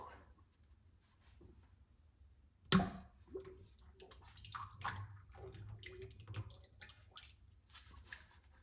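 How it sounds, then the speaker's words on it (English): Liquid clay slip draining from plaster mug molds shaped with a hornbill horn, a sudden splash followed by faint trickling and dripping that continues quietly, close by. "Draining these molds is a little tricky because of the shape of the horn in the hornbill"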